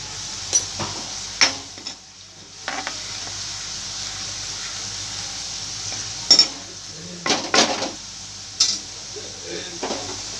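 Brinjals fry in oil in a pan, a soft steady sizzle running underneath with scattered sharp clinks and scrapes of a utensil against the pan, close and moderately quiet.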